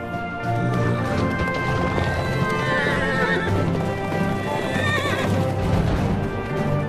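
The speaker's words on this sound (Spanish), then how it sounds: "Los caballos salvajes del Namib." Wild Namib horses gallop and neigh in desert country, hooves drumming in a steady, close clip-clop while several shrill whinnies rise above, with a low voice murmuring underneath.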